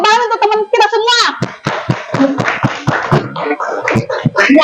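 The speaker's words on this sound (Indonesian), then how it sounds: "Tepuk tangan untuk teman kita semua" A class of children in an Indonesian classroom claps in short rhythmic bursts as they chant and call out together, the sharp hand slaps mixed in with their voices.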